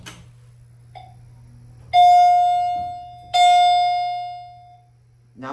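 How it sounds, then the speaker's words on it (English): A Montgomery Vector hydraulic elevator at Macy's in Hulen Mall sounds its chime: two loud, ringing tones in a quiet car, each sustained and slowly fading, over a steady low hum. "Now the chime sound unleashes itself."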